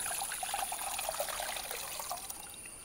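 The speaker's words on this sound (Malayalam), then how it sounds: "ആ ചട്ടിയിലേക്ക് തന്നെ കുറച്ച് വെള്ളം ഒഴിക്കുക." Water trickles and pours steadily into a cooking pot, held as a continuous close splashing wash for a few seconds, with no talk over it.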